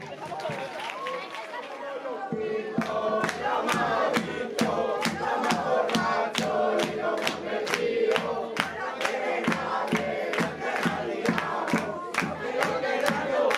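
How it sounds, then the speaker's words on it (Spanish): A large crowd at a carnival murga contest in Piornal, Spain, claps rapidly and cheers in a loud, sustained roar, with rhythmic clapping and whooping continuing throughout. "Recibámonos a todos con un gran aplauso."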